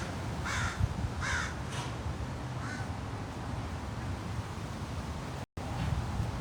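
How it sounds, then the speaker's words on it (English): Several crows caw in the distance, a handful of scattered harsh calls over steady outdoor hiss and rumble, heard outdoors where ravens are also about, with no one speaking. "Those are crows over there."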